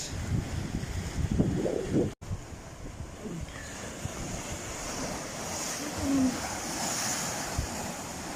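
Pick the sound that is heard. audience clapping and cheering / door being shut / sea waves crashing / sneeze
sea waves crashing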